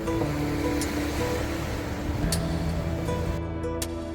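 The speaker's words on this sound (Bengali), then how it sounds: "মালদ্বীপে শব্দ দূষণ না থাকায় স্পষ্টভাবে সমুদ্রের ঢেউয়ের শব্দ শোনা যায়" Ocean waves wash onto a beach in the Maldives in a soft, continuous roar, fairly distant and steady, with a low hum beneath.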